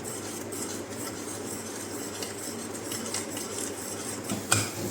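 Coconut barfi mixture being stirred in a pan over a low gas flame, with steady scraping and clinking of the utensil against the metal throughout and a sharper knock near the end.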